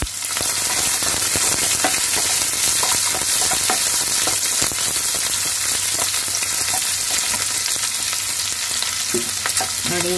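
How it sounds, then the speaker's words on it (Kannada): Green chillies and onion dropped into a sizzling tempering, a loud, dense, continuous frying hiss with crackling spatters and occasional stirring clatter, close up and without talk. "ಈಗ ನಾನು ಹಸಿರು ಮೆಣಸಿನ್ಕಾಯಿ ಮತ್ತು ಈರುಳ್ಳಿಯನ್ನು ಹಾಕ್ತಾ ಇದ್ದೀನಿ."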